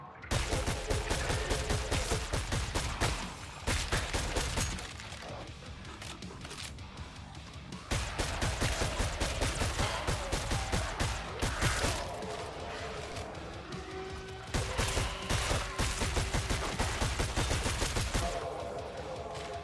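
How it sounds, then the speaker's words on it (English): A pistol fires in rapid repeated bursts in the game Killing Floor 3, sharp cracks in quick strings separated by short pauses, loud and close with mechanical clatter. "this pistol feels great to use when you put attachments on it"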